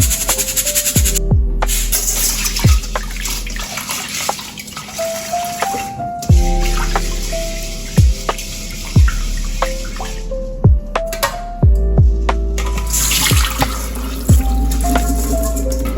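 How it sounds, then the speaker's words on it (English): Short grain white rice is rinsed under running water, a continuous tap stream splashing into a bowl with repeated clinks and swishes as the grains are stirred, close and fairly loud, with no talking. "Then you're going to rinse it until the water runs clear."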